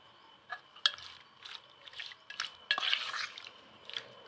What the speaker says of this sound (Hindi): इसको हम पहले मिक्स कर लेंगे। इसमें एक नींबू का रस डाल ले रहा